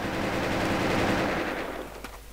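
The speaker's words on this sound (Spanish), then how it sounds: "¡Ay, mi escopeta como revienta ahora!" Rapid shotgun fire in a video game, a dense continuous burst of blasts that runs loud for about a second and a half, then thins out and fades with a last faint crack.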